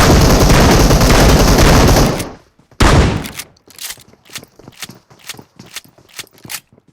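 Video game gunfire: a long, dense burst of rapid automatic fire, then a short pause and another burst, followed by a rhythmic series of separate sharp shots.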